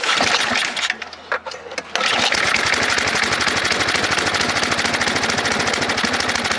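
A snowblower engine is pull-started with the choke set and throttle at half: a brief rattling pull with a short lull, then the engine catches at about two seconds and runs loud and steady with a fast, even chugging.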